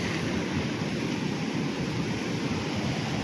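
Sea waves breaking against a rock formation at Sabang, Palawan, a steady broadband rush of surf that carries on without pause, close and fairly loud, with wind noise mixed in.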